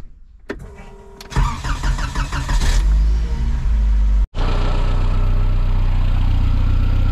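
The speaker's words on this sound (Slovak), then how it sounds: "Takže motor beží potichu." Škoda 130 turbo car engine on new Denso spark plugs, cranking and catching with a rough rev, then a brief cutout before settling into a smooth, steady idle, fairly close.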